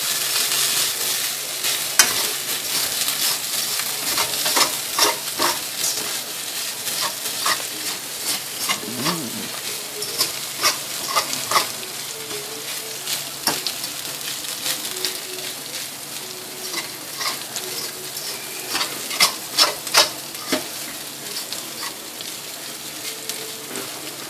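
Rice fries and sizzles in a pan under a constant loud crackle, with a utensil scraping and stirring in repeated strokes close by and occasional brief voices.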